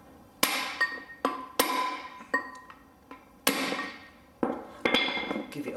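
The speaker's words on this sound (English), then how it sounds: "So what we do is with our hammer and chisel," A hammer striking a chisel to knock a wheel bearing seal out of a Land Rover hub, ringing metallic blows repeated about eight times at an irregular pace, each clang decaying briefly.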